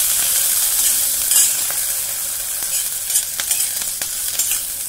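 Brinjal pieces go into a hot pan with fried lentil dumplings for stir-fried radish leaves, giving a loud, steady close sizzle broken by occasional stirring scrapes and clicks.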